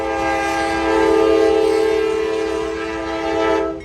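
A grain unit freight train at the Inman Yard crossing on Parrott Avenue in Atlanta gives one long, loud, steady horn blast that lasts about three and a half seconds before cutting off.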